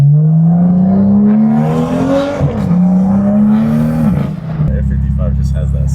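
A BMW F55 with a small boost leak accelerates hard, its engine note climbing steadily, dipping briefly at a gear change, then rising again before settling into a rougher lower drone, loud and close from inside the car.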